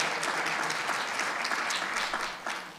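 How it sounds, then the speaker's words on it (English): A forum audience breaks into lively applause, a dense continuous clatter of many hands close by that tapers slightly near the end, with no speech over it. "I think an applause is good"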